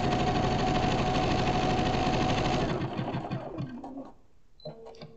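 A sewing machine running steady decorative stitches on a crazy patch basket project, a dense continuous mechanical whir for about three seconds that then slows and tapers into softer, intermittent stitching near the end.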